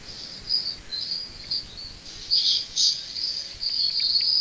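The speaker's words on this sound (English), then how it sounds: "Has he got birds or something?" Shrill, high chirping from birds or insects carries in the background in uneven bursts, moderately loud and steady, with no voices.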